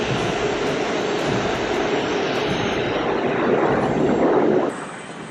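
A fixed-wing aircraft at a regional airport near Columbia, Missouri, gives a steady, loud engine roar that swells slightly before dropping away sharply near the end, with no talk.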